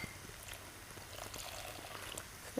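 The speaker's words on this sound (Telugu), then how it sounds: "East, sugar and warm water మిక్స్చర్ని ఇందులో యాడ్ చేసేసుకుందాం." A yeast, sugar and warm water mixture poured into flour, a soft, quiet liquid pour with faint splashes and a small thud at the end.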